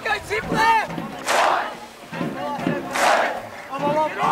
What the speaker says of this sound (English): Whilst the Ipswich Grammar crowd is starting to get a little bit rowdy